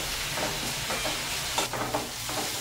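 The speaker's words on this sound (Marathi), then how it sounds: "कांदा छान तिथे भाजून घ्यायचा आता गुलाबी होईपर्यंत." Sliced onion frying with curry leaves in a pan for a Marathi matki usal, a steady close sizzle with occasional stirring scrapes and a few louder bursts, no talking.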